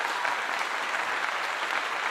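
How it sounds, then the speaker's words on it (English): An audience breaks into steady, dense applause that holds at an even, fairly loud level for the whole stretch, with no voices over it. "Give her a clap."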